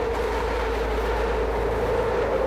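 A train rumbles along an elevated rail line overhead in northern Philadelphia, making a steady, loud roar with a low rumble and a bright whine that hold evenly throughout, with no speech.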